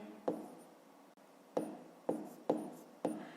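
A pen scratches out a fraction sum on paper in short, separate strokes, about five quick scrapes with brief pauses between them, close and fairly quiet with no voice over it.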